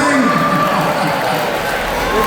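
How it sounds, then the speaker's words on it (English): A crowd at a robot battle event applauds and cheers continuously, a dense, loud wash of clapping and voices filling the space throughout. "Round of applause for Bang."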